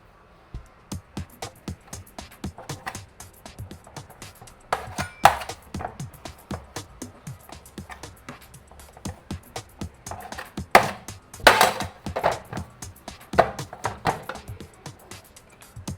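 A knife cutting soft dough into portions for curry buns on a board, with many quick light taps and occasional sharper clinks of the blade against the surface, fairly close and uneven in rhythm, with no talking.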